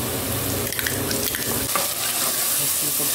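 Ginger garlic paste sizzling and frying with lightly browned onions in a pot for matar pulao, a steady loud crackle with stirring scrapes throughout, no talk.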